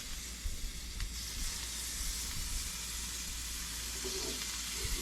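Hash browns fry in margarine in a pan on a stovetop, a steady close sizzle and hiss with faint scraping near the end, no voice over it.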